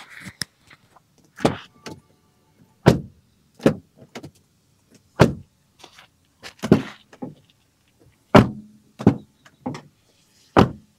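Car doors on a 2025 Honda Amaze shut again and again in a series of sharp, solid thuds with clicks and handling noises between them, close up and heard without speech.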